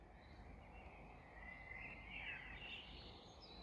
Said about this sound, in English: Yeah, I can hear a lot of blackbirds singing.